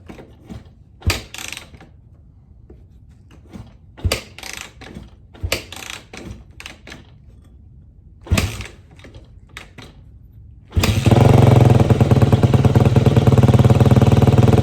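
A Yamaha YZ dirt bike takes a few loud, separate kicks with mechanical clunks and brief sputters, then catches on the second try and settles into a loud, steady, close engine run.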